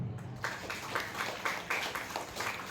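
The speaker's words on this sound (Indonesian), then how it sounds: "Beri tepukan dulu kepada dia." An audience at a Ramadan gathering in Sabah claps together, faint and somewhat distant, with a regular rhythmic pulse of claps throughout.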